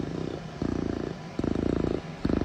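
A person imitates a cat's purr by pushing air through holes in the roof of the mouth, producing rhythmic rumbling bursts in several close, loud pulses separated by brief pauses.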